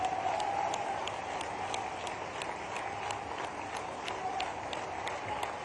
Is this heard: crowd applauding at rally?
yes